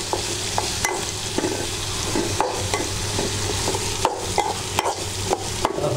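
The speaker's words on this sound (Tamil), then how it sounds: "நல்லா வதங்கிருச்சு இந்த வெங்காயம் மிளகாய் எல்லாமே" Onions, dried red chillies and tamarind sizzle steadily in a pan, with a spoon stirring and scraping in irregular clicks over the continuous frying.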